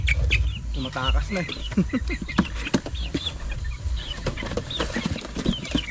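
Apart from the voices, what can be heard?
chicks peeping while placed in a cardboard box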